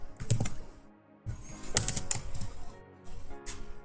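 Java code being typed on a computer keyboard, bursts of quick close key clicks separated by a short pause, fairly quiet and with no talk over it.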